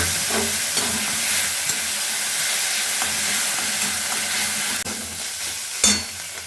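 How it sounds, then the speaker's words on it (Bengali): Onion, ginger and garlic paste fries in mustard oil over whole cumin, a continuous loud broadband sizzle close by with a few scraping stirs and knocks near the end, no voices. "গোটা জিরে সম্বার দেওয়ার পর আমি পেঁয়াজ আদা রসুন পেস্টটা দিয়ে দিলাম"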